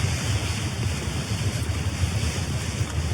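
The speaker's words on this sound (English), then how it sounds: "it's pretty rowdy being next to the sea" Sea waves beside a campsite, a constant loud rushing surf mixed with wind buffeting the microphone, steady throughout with no voices.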